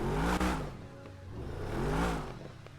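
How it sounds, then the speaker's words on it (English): BMW F90 M5 with a burble exhaust tune, its engine revving up and falling back twice in rising and falling sweeps, close and fairly loud with no talk. "They have a BMW F90, pretty nice sounding car. I think it has a burble tune."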